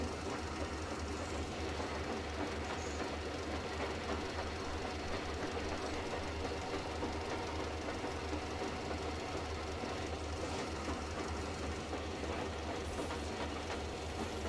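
A train running in the video game Metro Exodus, a faint continuous rumble with steady rhythmic clatter and knocking from the wheels and engine, with no voices.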